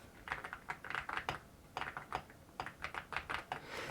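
Typing on a keyboard fitted with ceramic keycaps produces quick bursts of close, crisp clacks in an uneven rhythm, with short pauses between flurries.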